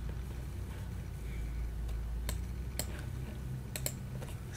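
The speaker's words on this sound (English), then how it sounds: "So I'm going to type that into our homework." Computer keyboard typing while entering regression values into homework, a few sharp clicks and short bursts of keystrokes over a steady low background hum.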